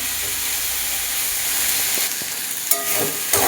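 Carrot, pumpkin and potato stir-frying in a pan for a pointed gourd dish give a steady loud sizzle, broken near the end by a few scraping stirs.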